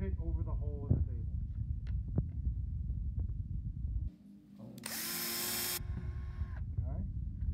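A hand drill bores a hole through a base/upright assembly piece set over a hole in the table, running as one steady loud whine for under two seconds after a brief pause, with talk before and after.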